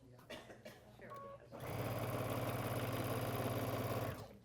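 Quilt fabric running through a sewing machine, a rapid, steady mechanical chatter that starts after some quiet talk and handling noises and carries on continuously to the end.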